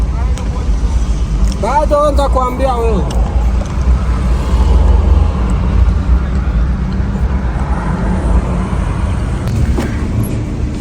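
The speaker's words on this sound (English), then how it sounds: "traffic." Steady road traffic rumbling on a busy road at the end of the day, a continuous low drone of passing cars with brief talk over it early on.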